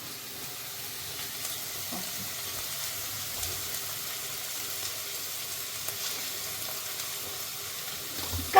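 A besan and vegetable mixture fries in oil with onion, giving a soft, steady sizzle with faint stirring crackles, quiet and unbroken.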